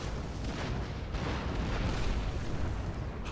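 A cannon artillery volley in the Empire Total War video game comes through as a dense, continuous roar of overlapping booms and blasts, loud and sustained with no clear gaps.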